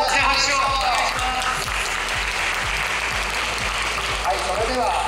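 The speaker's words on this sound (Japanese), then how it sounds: "大きな拍手をお願いします。" Sustained applause from a crowd at a Beyblade tournament rolls on for several seconds, with an announcer's voice talking over it near the start and end.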